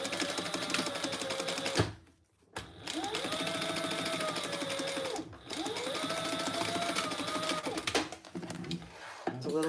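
Sewing machine stitching a seam on a fabric phone pouch, rapid buzzing runs that stop and restart in three stretches, close and clear with brief pauses between.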